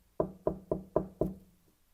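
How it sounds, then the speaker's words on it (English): Five sharp knocks on a table in a steady, evenly spaced rhythm, close and distinct, followed by a quiet room. "Can you knock on the table like this?"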